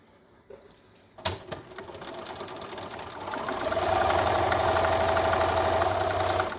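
After a sharp click, a sewing machine speeds up into fast, steady stitching on a fleece belly band, with a rapid mechanical whir that grows louder and holds near the end.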